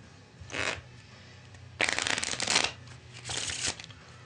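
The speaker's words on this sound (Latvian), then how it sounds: "no sākuma es paņemu kārtas un samaisu" A deck of playing cards is shuffled up close in three quick riffling bursts, the middle one longest and loudest, with short quiet gaps between them and no voice.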